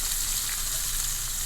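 Fish frying in hot oil in a pan, for a fish and tofu sisig, gives a steady, close, dense sizzling hiss that holds at an even level throughout with no talking.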